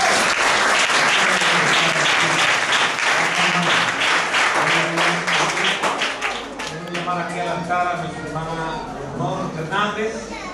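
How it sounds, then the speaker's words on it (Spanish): Congregation applause at a Pentecostal church gathering in San Vicente, brisk dense clapping mixed with voices and cheers that gives way to sung or spoken tones with scattered claps. "Démosle un aplauso al hermano."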